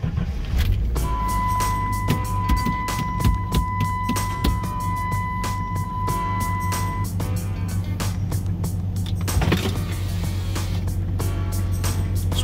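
A Jeep 4.0 engine idles steadily and close by after its upstream oxygen sensor was replaced to cure a misfire, with a low continuous rumble, a brief whine early on and small clanks over the running motor.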